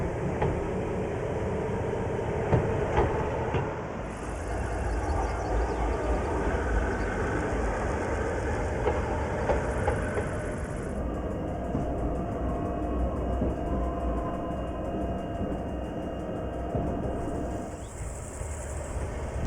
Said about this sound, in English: continue your journey here by rail on board a BLM train. It is a 20-minute ride to Mürren